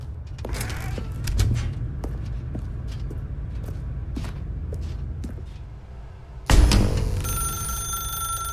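Telephone ringing in The Stanley Parable video game, an electronic ring tone that starts abruptly partway through and continues steadily over a low room hum and scattered soft clicks.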